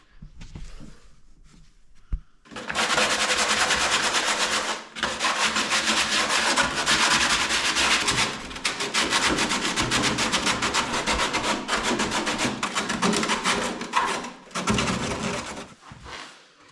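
Sandpaper is rubbed by hand across a car's rear bumper surface to scuff it, making a loud, close, continuous rasping that runs in long strokes with brief pauses between them.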